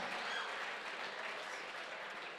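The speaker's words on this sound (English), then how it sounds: "They deserve a huge round of applause." Applause from an awards night audience for the nominees, a dense, even wash of clapping heard fairly quietly and sustained throughout.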